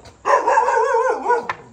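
A single dog lets out one long, loud, drawn-out bark close by, wavering in pitch before a short sharp yip near the end.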